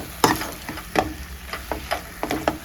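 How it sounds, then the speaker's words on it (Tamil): A spoon stirs prawn thokku in a hot pan, giving a quick series of scraping strokes over a soft sizzle, close and fairly loud. "இதை ஒரு தடவை கிளற எடுத்துகிட்டு"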